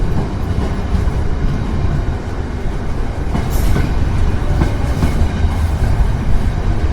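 A long passenger train bound for Bergen rolls past at close range, its steady loud rumble carrying rhythmic wheel clatter throughout with no voices over it.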